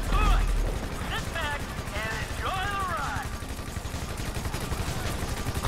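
Gunfire from the video game Grand Theft Auto V rattles as a dense, continuous stream of rapid shots, with a voice talking over it and game noise underneath.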